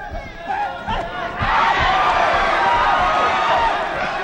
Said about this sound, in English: Crowd reacting a little bit to some of the shots.